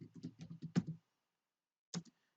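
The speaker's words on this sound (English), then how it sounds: "so type your name in" Quiet computer keyboard typing a file name, a quick run of about eight light key clicks, then a pause and two final taps, close and soft with no talking.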